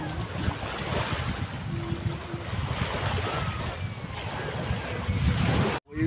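Sea waves break along a shore in a steady, rumbling wash mixed with heavy wind buffeting the microphone, continuous and loud throughout, ending in a sudden cut.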